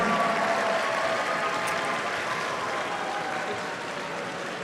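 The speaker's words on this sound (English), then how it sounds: "please now join me in a very large round of applause for an outstanding group of young people" Steady applause from an audience at the national Super Quiz academic competition finals, sustained, dense clapping that fills the whole stretch and fades slightly toward the end.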